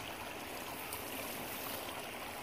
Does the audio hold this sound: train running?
no